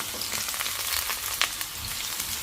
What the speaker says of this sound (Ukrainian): Тепер наливаю туди олії. І висипаю цибулю.